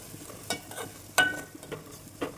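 Chilli powder is stirred into an omelette curry in a pan, with a soft simmering sizzle and several distinct scrapes and taps of a spoon against the pan, close and fairly quiet.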